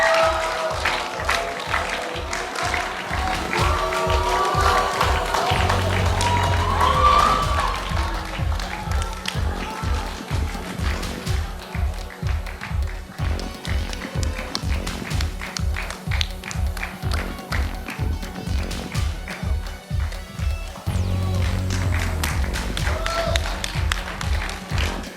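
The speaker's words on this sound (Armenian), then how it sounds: "Եկեք ջերմ ծափահարությունները ողջունենք հիփ-հոփ խմբին" Studio audience on X Factor applauds a hip-hop group, dense clapping and crowd noise over a thumping, steady music beat, with bursts of cheering rising and falling across the stretch.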